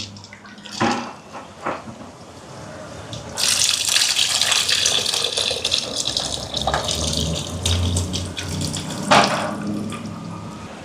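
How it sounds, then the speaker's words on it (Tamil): Soaked tamarind water is poured into a vegetable curry during home cooking in Jaffna, Sri Lanka. After a few soft knocks, a loud, close gush of splashing liquid runs for several seconds, then tapers with intermittent splashes. "புளியை ஊற வச்ச நான் நல்லா ஊறி இருக்குது பிணைஞ்செடுப்போம் இனி புளியை சேர்ப்பேன்"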